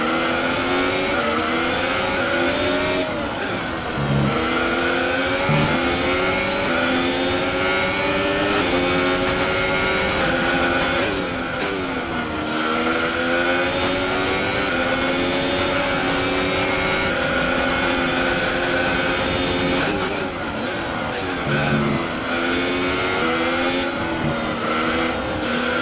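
Formula 1 race car engine in the F1 2018 racing game at the Belgian Grand Prix, revving loud and continuous with shifting pitch through gear changes, alone with no talk.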